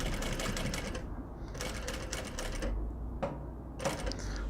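A domestic sewing machine runs edge stitching along a pocket edge on elastic-waist baby pants, its rapid needle chatter coming in three bursts with brief pauses between, followed by a few small clicks and handling noises.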